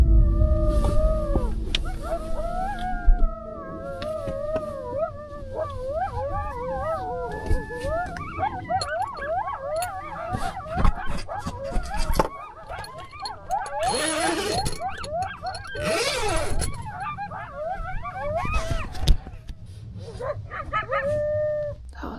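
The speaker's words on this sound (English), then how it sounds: "A whole pack of coyotes had moved in close, their calls echoing through the darkness" A pack of coyotes calling at night, with overlapping howls, yips and wavering cries that rise and fall continuously, fairly close and loud with no talk.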